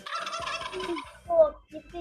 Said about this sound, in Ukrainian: Індик тато.